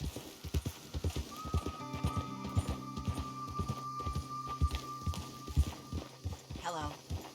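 Horse hooves clip-clop at a walking pace in Red Dead Redemption 2, with a neigh partway through and people talking in German over the steady hoofbeats.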